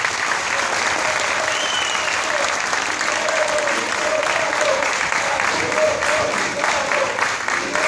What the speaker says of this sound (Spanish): un gran aplauso a nuestro ministro obrero, camarada Osvaldo Vera.